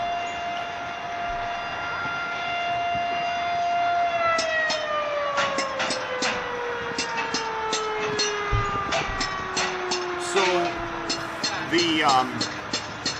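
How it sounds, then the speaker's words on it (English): A distant civil defense siren, sounding as an equipment test, wails with a long, sustained tone that slowly drops in pitch, while a voice speaks over it in the foreground. "Oh, and apparently the civil defense sirens are going off."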